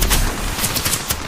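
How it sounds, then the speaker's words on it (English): Video game gunfire in a firefight, rapid bursts of shots crackling steadily and close throughout, with no talk. "I'm getting shot at!"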